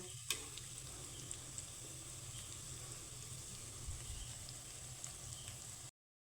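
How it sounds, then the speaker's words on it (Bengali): Pitha frying in hot oil gives a steady, dense sizzle and crackle that runs unbroken at moderate level, with no talk over it. "কিন্তু আমি লাল লাল করে ভাজবো"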